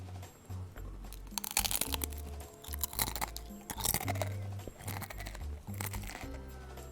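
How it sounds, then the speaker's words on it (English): Close, loud crunching and chewing of Tostitos Original tortilla chips, with repeated crisp bites and brittle crackles in an uneven rhythm and no talking. "Can you make a chip eating ASMR?"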